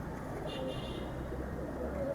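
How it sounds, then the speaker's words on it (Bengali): A home-bred pigeon, its father a brown-necked bird, gives low, soft coos close by under a continuous background hum. "এই যে এটা এরকম একটা হোম ব্রিড কবুতর।"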